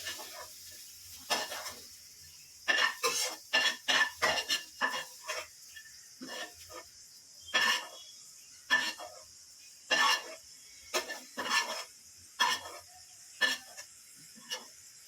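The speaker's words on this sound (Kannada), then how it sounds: "ಎಲ್ಲ ನೀಟಾಗಿ ಮಿಕ್ಸಿ ಜಾರ್ಗೆ ಹಾಕೋತಾ ಇದ್ದೀನಿ ನೋಡಿ" Ingredients for a Nati chicken biryani masala are spooned into a mixer grinder jar, producing irregular clinks, taps and scrapes of a spoon against the jar. The sounds are fairly faint and come over a quiet background hiss.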